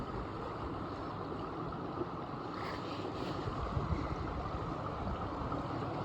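A mountain stream runs under a timber bridge on a snowy Colorado hike, heard as a steady, fairly close broadband rush that may be mixed with wind.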